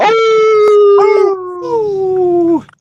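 Voices imitate a wolf howl together, a loud sustained wavering tone that slides slowly downward over about two and a half seconds before cutting off.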